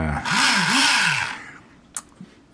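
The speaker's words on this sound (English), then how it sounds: "I'm going to drill pilot holes." A power drill drills pilot holes in a model ship, whirring briefly, its motor pitch rising and falling, then winds down and stops, followed by a couple of small clicks.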